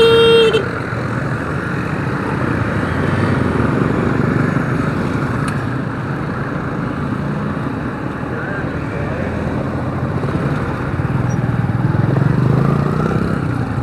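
Heavy street traffic in a busy town centre with tricycles, a dense rumble of engines and wind, a short horn toot near the start, and someone talking over it.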